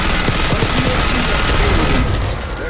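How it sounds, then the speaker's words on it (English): Sustained loud automatic machine gun fire in the shooter game Call of Duty: Black Ops 6, a dense, continuous roaring burst with rapid rattling under heavy battle noise that eases slightly near the end. "Machine gun!"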